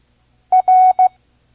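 A single Morse code R keyed as a clear electronic tone: short, long, short pulses at a slow learner's pace of five words per minute, crisp and close with silence before and after.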